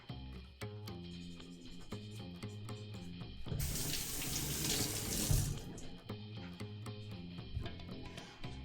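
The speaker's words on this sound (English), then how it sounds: "I'm sort of changing around where I'm scrubbing because I'm not using soap or anything, and so whatever I'm scraping off is sort of half collecting into this scrub." A kitchen tap runs steadily as vegetables are scrubbed with a scrubber and no soap, the water rushing into the sink and swelling louder midway between quieter stretches of rinsing.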